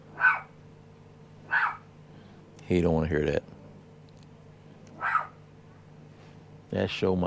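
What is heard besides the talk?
dog barking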